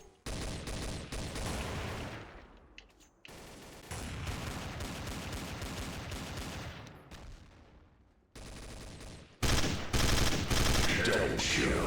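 Bursts of gunfire in Counter-Strike: Source, loud clusters of rapid shots separated by brief gaps, with game sounds between volleys.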